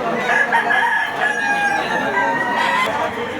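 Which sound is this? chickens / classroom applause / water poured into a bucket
chickens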